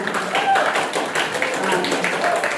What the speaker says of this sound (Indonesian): bagi tepukan untuk mereka